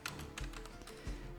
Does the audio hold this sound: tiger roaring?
no